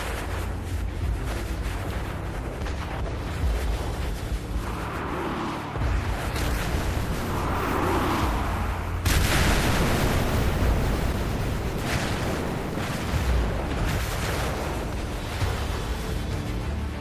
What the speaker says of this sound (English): The Yamato opens fire on the U.S. Navy.